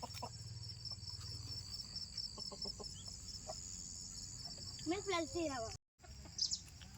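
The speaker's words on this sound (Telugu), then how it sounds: "ఇక్కడ చూస్తున్నారు కదా కోడి పుంజ అయితే మంచి పుంజుని అయితే పెంచారు" A well-raised rooster at a lone house in the forest in early morning, clucking a few times then giving a short crow amid steady insect and cricket chirring, moderately near, with no talking.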